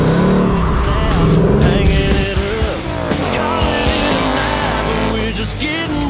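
A car on an oval track, loud close engine roar with revving and tire noise throughout, with music and occasional talk underneath.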